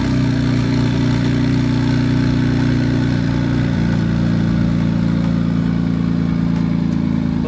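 An 800-horsepower single-turbo Kia Stinger engine runs loud and close, a steady throaty drone with a slight shift in pitch midway as the drive gets underway, with no voices.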